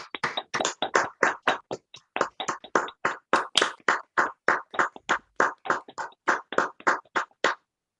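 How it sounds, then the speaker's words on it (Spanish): Steady, evenly spaced hand claps ring out close to a microphone for about seven seconds and then stop abruptly, while participants in an online astronomy lecture on planet formation switch their microphones on to applaud the invited speaker. "Un aplauso, por favor, si podemos encender nuestros micrófonos"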